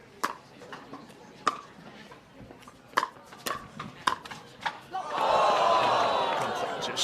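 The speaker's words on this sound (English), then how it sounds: "Just short, the crowd reacts here in St. George." At a pickleball gold medal match in St. George, sharp paddle pops ring out between rallies, then a crowd swells into a sustained loud groan and cheer over the last couple of seconds, with a voice talking over it.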